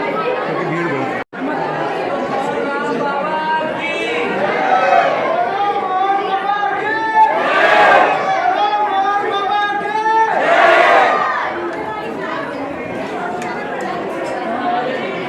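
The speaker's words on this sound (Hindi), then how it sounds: "मैं अपना मोबाइल यहीं पे बंद करता हूँ क्योंकि भीड़ बहुत है।" Large crowd of pilgrims packed into a queue at a Baba Mohan Ram temple in Rajasthan, a loud dense roar of overlapping chatter and shouts that swells and fades, with many voices talking nearby.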